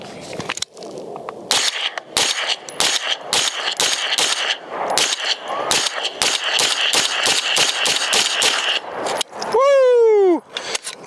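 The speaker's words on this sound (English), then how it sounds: "we're gonna get our first rounds down range" Shots from a SAINT Victor 9mm pistol-caliber carbine ring out in a long, quick string of sharp cracks with loose, uneven spacing, loud and close, followed by a brief metallic ring.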